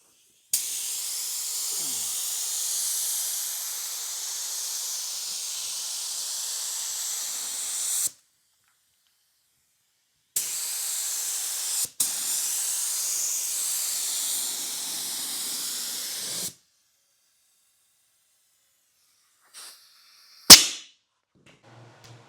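Paint spray gun spraying primer on an E36 BMW 325is car body, a steady airy hiss in two long passes of about eight and six seconds separated by silence, ending with a few short clicks and bursts.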